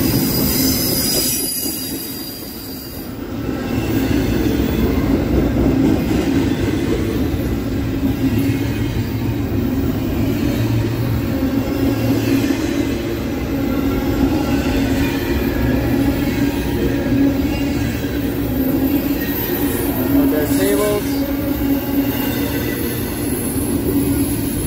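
CSX Q138 freight train of under 100 cars rolling past near Penn Mary yard on the Old Main Line, a steady loud rumble of wheels with sustained metallic wheel squeal throughout.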